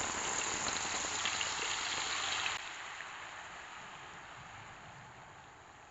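Ground chili spice paste of curly red chilies, shrimp paste and tomato sautéing in a little oil, a steady broadband sizzle like rain that drops sharply in loudness partway through and then continues softer, with no talking.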